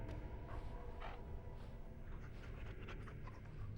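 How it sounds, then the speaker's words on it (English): A dog in Dragon Age: Origins pants and whimpers softly, with quick breathy panting mixed with faint high whines under a dense, low game background hum. "Why is he whimpering like that?"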